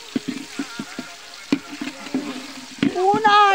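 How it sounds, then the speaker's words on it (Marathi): Biryani masala stir-fried in a cooking pot, with regular scraping strokes of a spoon against the metal and a soft sizzle beneath, followed by a rising hiss near the end. "मसाला हा मसाला परतून दे"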